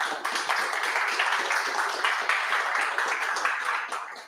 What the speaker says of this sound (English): Let's get another round of applause for Gina.